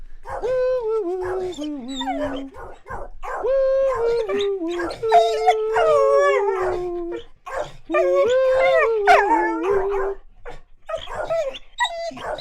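A dog howls in long, wavering, rising and falling notes with whimpering breaks, close and loud, several howls in a row over about twelve seconds.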